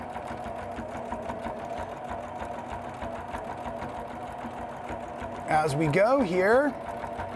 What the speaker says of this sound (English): we're going to just smoothly stitch on this last row.